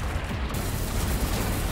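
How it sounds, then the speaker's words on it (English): A loud, dense explosion from the space shooter game Everspace 2, a sustained broadband roar and rumble filling the whole clip with no pauses and no voices. "Explosion time!"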